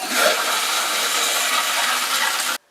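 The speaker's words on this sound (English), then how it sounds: "Turn your water on to the toilet." Water rushes steadily into a toilet tank through a newly installed Korky fill valve, a loud, close, broadband hiss that holds even for about two and a half seconds before stopping abruptly.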